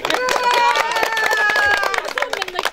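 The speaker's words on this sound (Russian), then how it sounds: "Аплодисменты подарите" A crowd claps in fast, dense applause at a bride price celebration, with voices shouting and a sung or drawn-out tone running over it before the clapping thins out.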